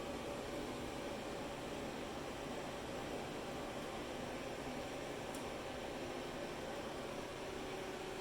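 An A/C service machine evacuates the refrigerant system of a Toyota Sienna van, producing a faint, steady mechanical hum and hiss that stays constant, with no talking.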